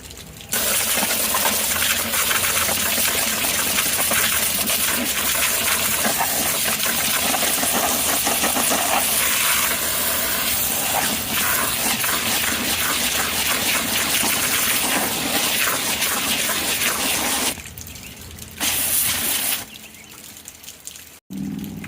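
Garden hose spraying water hard and steady while washing mud off an RC truck, a loud continuous hiss that cuts out briefly near the end.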